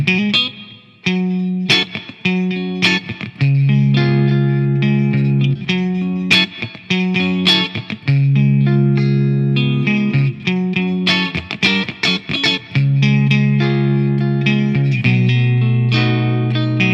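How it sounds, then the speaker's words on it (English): A 1996 Fender Stratocaster Ultra electric guitar plays loud, sustained chords and picked notes through heavy reverb and effects, ringing steadily with no talk. "little more reverb on there."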